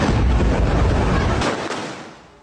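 Heavy bombardment explosions in Bint Jbeil, southern Lebanon, come as a loud, deep rumbling blast that cuts off sharply and then fades into a lingering, fainter tail, with no talk.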